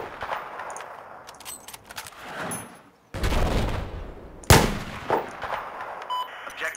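Sniper rifle shots in a first-person shooter video game, a couple of sharp loud reports amid game sound effects and background battle noise.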